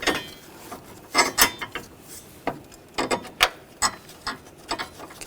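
A ratchet tightens nuts and bolts on the transmission cooler line bracket of a 2010-2017 Chevrolet Equinox, giving quick uneven clicking bursts up close.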